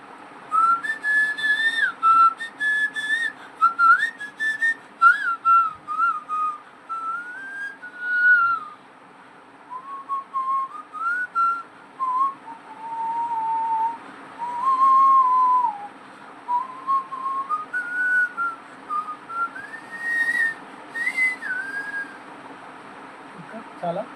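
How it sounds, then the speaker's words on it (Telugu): A man whistles a melodic Telugu song tune, a clear, close, wavering whistle in phrases with brief breaths between them, continuing for over twenty seconds. "నువ్వు విజిల్ వేస్తుంటే ఏమంటారు, లిప్పు కూడా కదలట్లేదు"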